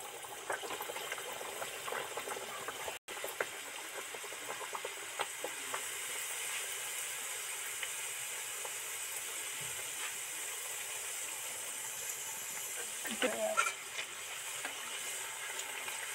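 Green pea kachori frying in a wok of hot oil: a steady, close hiss of sizzling that runs the whole time with small crackles and pops, no voices.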